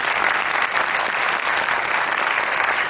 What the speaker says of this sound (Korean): 너무 멋진 영화에 대한 대답을 들려주신 전종서 배우님께 박수 한번